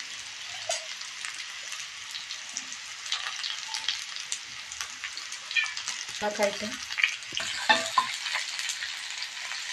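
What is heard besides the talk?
onion frying in oil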